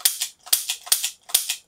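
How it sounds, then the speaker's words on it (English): A pistol trigger is pulled on non-live ammunition, making four crisp dry clicks at close range. Each click is a quick double snap from the trigger and action, spaced evenly with brief silences between them. "So I can just pull the trigger as many times as I want."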